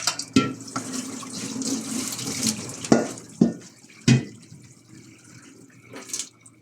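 Water splashes and pours in uneven bursts into a sink as cooked rice is drained, with a few sharper gushes and clatters between quieter trickling.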